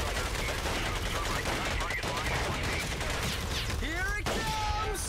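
Rapid gunfire and explosions from the World War II shooter Medal of Honor: Pacific Assault fill a busy battlefield mix, with bursts of shots over a constant roar and a descending whistling sound near the end.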